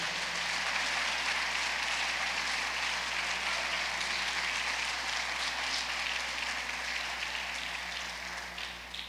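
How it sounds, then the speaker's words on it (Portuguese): A church congregation applauds during a sermon, a dense, steady wash of clapping that fills the room and eases slightly near the end. "Pode aplaudir o Senhor Jesus"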